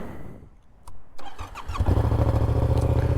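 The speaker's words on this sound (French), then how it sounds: "vas-y on va leur faire écouter le bruit" A 2024 Yamaha Tracer 700 A2 motorcycle, fitted with a chicane in the exhaust, starts after a few clicks and cranks, then settles into a steady, close, fairly loud idle.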